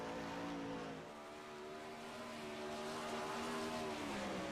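A race car engine at full throttle on a dirt oval in an iRacing sim, the car numbered 23, a steady loud rising whine holding through one continuous pass with no talk.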